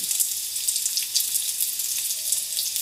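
Garlic fries in hot oil in a pan while cooking monggo, producing a steady, close, bright sizzle with crackling pops throughout and no talking.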